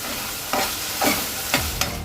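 Spice masala roasts in a pan for Kathiyawadi-style baingan bharta, with a continuous close sizzle and three or four distinct spatula stirring scrapes, and no voices.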